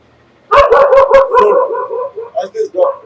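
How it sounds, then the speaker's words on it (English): Dogs barking nearby: a quick burst of four or five loud sharp barks, followed by whining yips and a whimper that trail off, heard alone. "as the dogs are barking right now"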